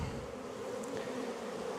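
Honeybees buzz around an open hive during an apiary inspection on a very hot day, a steady, soft swarm drone that holds evenly with no voices.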